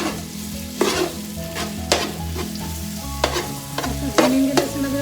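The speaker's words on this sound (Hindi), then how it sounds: "आधी के साथ हम लहसुन अदरक ऐड करेंगे।" Garlic and ginger sizzle with onions in a hot pan, a continuous close frying crackle broken by a few louder spikes as a spoon stirs and scrapes through the mix.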